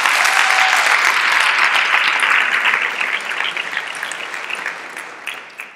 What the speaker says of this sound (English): Please join me in a round of applause for Dr. Bill Silver.